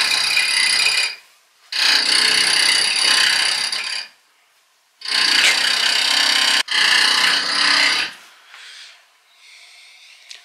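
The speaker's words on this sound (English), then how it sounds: "They're gonna start drilling." A power drill whines loudly nearby in several bursts of a second or two, separated by short silent pauses, in Lake Louise, Canada.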